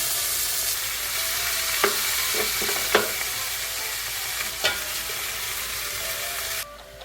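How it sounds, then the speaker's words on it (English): Beef sears in a hot pot with a constant loud sizzle, broken by a few sharp clinks and scrapes of a utensil stirring the meat; no one speaks. "While the beef is searing"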